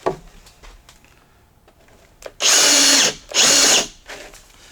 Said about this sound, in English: For a 2-inch Forstner bit, normally you'd run something this large in a drill press. I'm going to try it with this 1/2-inch drill